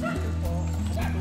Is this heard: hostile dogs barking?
yes